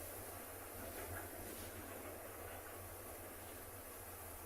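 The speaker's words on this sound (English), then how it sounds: "You might also be able to hear a train in a second." A train rumbles far off in the South African bush during a morning safari drive. It is a faint, steady low drone with a hiss over it, continuous for the whole stretch, and no one speaks.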